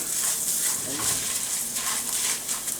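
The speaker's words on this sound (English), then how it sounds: "We're going to toast this rice." Arborio rice toasts in a pan for risotto while being stirred, making a continuous close sizzle with faint scraping from the stirring, steady throughout and without speech.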